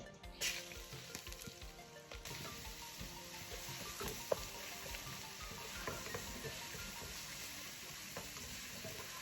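Cumin, cinnamon, cloves, cardamom, ginger and garlic frying in the same oil used to fry chicken for chicken biryani, a steady close sizzle with light stirring clatter throughout, no talk.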